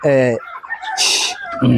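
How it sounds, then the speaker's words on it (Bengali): Chickens on a poultry farm cluck close by in short, loud bursts, with people talking between and over the calls. "দেখেন মুরগি খাওয়া শুরু করলে কেমনে খায়"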